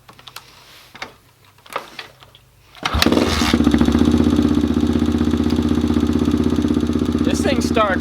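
A Kawasaki KLX110 dirt bike is kicked over a few times with clacks, catches at once and settles into a steady, loud, thumping idle with a buzzy rattle, close by, as a person talks briefly near the end.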